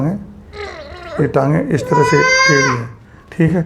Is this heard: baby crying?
yes